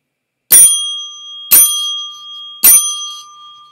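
Three separate rings of a bright, clear bell, like a bicycle bell, each about a second apart and left to ring out and fade. Loud and close, with no talk.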